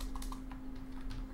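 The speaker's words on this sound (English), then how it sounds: "what am I typing?" Rapid typing on a computer keyboard, scattered key clicks in short bursts over a steady low hum, close and fairly quiet.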